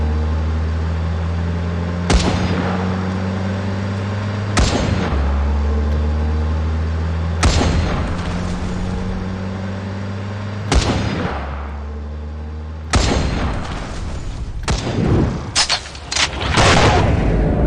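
Sniper gunfire during a night special-ops mission in the mobile shooter Cover Fire, several loud, booming single shots spaced a few seconds apart, then a quicker cluster of shots near the end, over a steady game soundtrack hum.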